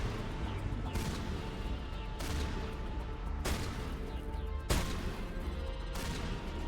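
Gunfire rattles in the Mass Effect video game, several heavy bursts and blasts over a dense, noisy battle backdrop, with sharp onsets recurring every second or two.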